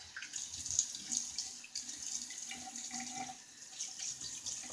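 Tap water runs into a bathroom sink to rinse an Enders Speed Shaver injector razor, a quiet, close, splashy stream for a few seconds with faint clinks and no talking.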